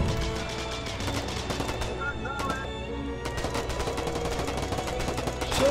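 Gunfire aimed at an armored car in the Foxhole war game: dense, rapid bursts of shots crackle continuously and loud, with voices partly underneath.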